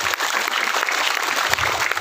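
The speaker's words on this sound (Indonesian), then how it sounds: "Tepuk tangan buat semuanya." Applause from a large audience at an outdoor religious lecture gathering in Tebing Tinggi, a steady dense clatter of hands that runs evenly through the whole moment with no voices over it.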